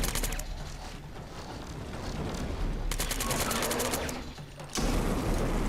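Rapid gunfire bursts from the sci-fi shooter game Killzone 3, sustained volleys crackling over a dense background of game sound, with a heavier burst near the end.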